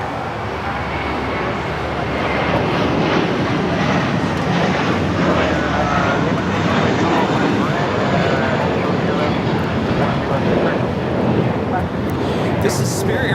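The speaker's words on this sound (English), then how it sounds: "This is Spirit Airlines 1068 taking off the Chicago O'Hare on the A321." A Spirit Airlines Airbus A321 takes off at Chicago O'Hare, its jet engines roaring as a loud, steady broadband rumble that holds for the whole stretch, with people talking over it.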